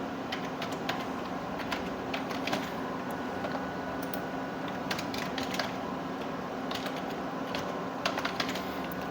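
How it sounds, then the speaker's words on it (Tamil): Steady typing on a computer keyboard while writing a document in MS Word, with quick, even key clicks going on throughout over a low hum of a room or computer fan. "வெட்டிங் இன்விடேஷன் அப்படின்னு டைப் பண்ணிட்டேன்"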